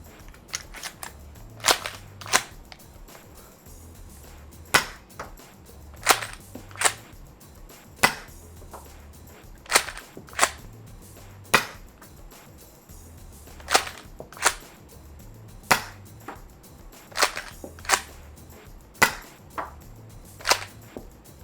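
Remington 870-style Nerf shotgun firing 50 cal foam balls, giving a steady series of sharp, dry pops about once every second or two, fairly close and loud over a quiet background with a low hum.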